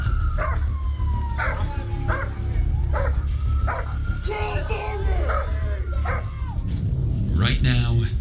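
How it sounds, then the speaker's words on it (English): A police K9 dog barking repeatedly during an arrest, loud rhythmic barks and yips mixed with shouting voices and a steady low engine hum. "I got the dog! Get the dog now."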